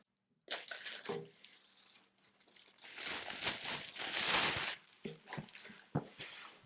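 A tumbler press gets unpacked from a plastic bag and styrofoam packing, with close crinkling plastic and squeaky, crunchy foam rubbing in bursts and short pauses.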